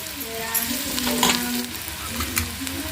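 Onions and green chillies frying in a pan for a North Karnataka style karchikai palya, a dense, steady sizzle with stirring scrapes, close and fairly loud throughout.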